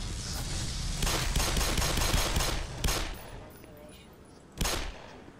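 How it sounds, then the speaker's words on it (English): Bursts of automatic chain gun fire in the video game Black Mesa, a sustained loud stretch followed by shorter separate bursts, with a constant background drone underneath. "The first chain gun we've encountered in this game."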